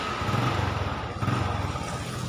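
A Honda underbone motorcycle engine idles after an electric start, a steady close putter with a low throbbing rumble and slight fluctuations, with no voices.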